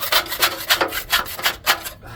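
Caked old dirt is scraped off the tines of a 3-point tiller in a steady rhythm of close, rasping strokes, about two per second, with no talk.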